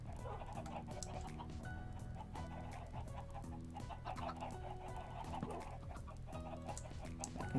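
A Minecraft chicken clucks repeatedly in short, evenly spaced bursts over steady game background tones, close and clear throughout.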